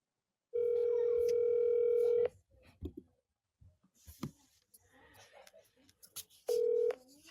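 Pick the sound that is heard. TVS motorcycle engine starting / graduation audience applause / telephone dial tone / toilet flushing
telephone dial tone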